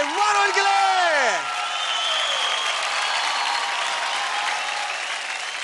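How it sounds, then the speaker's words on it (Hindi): A TV dance competition's studio audience bursts into loud, sustained applause with cheering, opening over a swooping musical sting before settling into steady clapping. "तालियां हो जाए वरुण के लिए"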